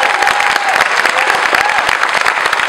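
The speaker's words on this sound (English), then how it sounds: "how about one more great applause for this outstanding ensemble" Concert audience applauding an honor band ensemble, dense continuous clapping heard close and loud throughout, with a faint whistle-like tone rising over it.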